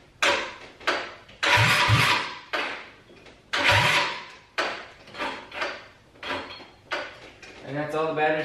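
A 232cc drag scooter engine cranking repeatedly on starter fluid, a series of loud churning cranks in uneven bursts that never catch into a steady run, close to the listener.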